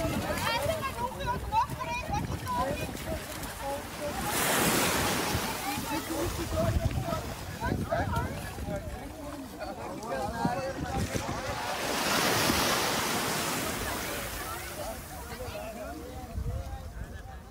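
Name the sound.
sea waves and surf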